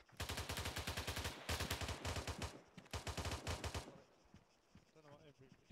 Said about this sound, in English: Put down suppressive fire.